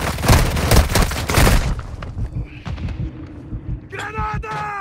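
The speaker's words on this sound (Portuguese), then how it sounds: "Granada!" Grenade explosion in Warzone Mobile, heavy booming blasts and rapid crackling bursts up front that fade into scattered impacts, with a voice speaking over the later part.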